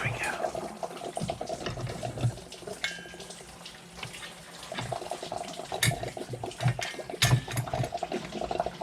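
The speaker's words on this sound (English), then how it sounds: "pop that out, and we'll probably get a gusher of water" Coolant water gushes and splashes from the thermostat housing of a beach buggy with an overheating engine. It keeps up a steady watery rush for several seconds, close by and fairly faint, with some clatter and talk mixed in.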